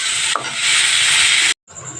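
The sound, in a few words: pointed gourd frying with garlic, onion and chilli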